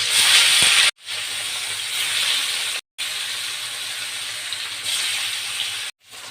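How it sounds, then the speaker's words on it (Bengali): Rui fish frying in hot mustard oil in a wok gives off a loud, close, hissing sizzle in three sustained stretches, each broken by a brief silence. "তেল গরম হয়েছে এখন আমি মাছ দিয়ে ভেজে নেব এপিট ওপিট করে"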